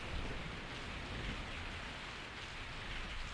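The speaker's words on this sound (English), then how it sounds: "I woke up to the sound of falling rain." Steady falling rain in a Resident Evil 3 mod scene, a dense even hiss of drops hitting surfaces that holds constant and fairly loud throughout, with no voices.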